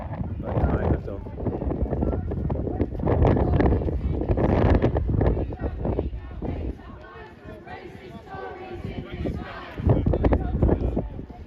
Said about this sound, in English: Don't know if you can hear it's windy, so it sound might be dreadful.